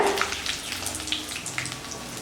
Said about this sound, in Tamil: வடகத்துக்கு போடுறப்போ அடுப்பை சிம்மில் வச்சுட்டு ஃப்ரை பண்ணுங்க